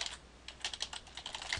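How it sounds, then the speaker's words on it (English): Quick, light clicks of typing on a computer keyboard in a quiet room, an irregular burst of keystrokes heard close and alone. "So in this case I'm going to type in header."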